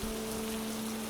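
Rain falls in a steady, even hiss of close, dense drops with a low constant hum beneath it and no voices.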